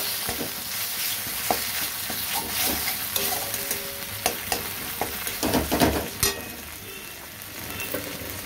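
Boiled tomato fries with ginger in a pan, a continuous sizzle broken by irregular scrapes and clinks of stirring, the spoon strokes clustering near the end.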